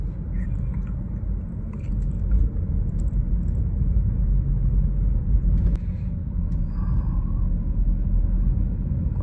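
A BMW driving at night, heard from inside as a steady low road and engine rumble that holds level throughout, with faint cabin ticks and no talk.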